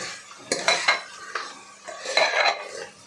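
Chicken with salt being stirred in a pressure cooker, a spoon clinking and scraping against the metal in a few quick bursts, close and distinct.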